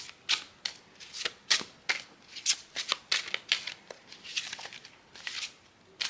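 Tarot cards shuffled and drawn from a deck in a quiet room, a run of crisp riffling flutters and soft flicks, with short papery bursts repeating irregularly for several seconds, close and fairly faint.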